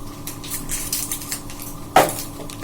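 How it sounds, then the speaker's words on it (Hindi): Spoon clinking and scraping in a bowl while boondi is mixed into raita, soft repeated stirring sounds with one sharper knock near the end. "इसके अंदर डालेंगे बूंदी, सिंपल बूंदी डालूंगी मैं, और ये मिक्स कर दूंगी इसे"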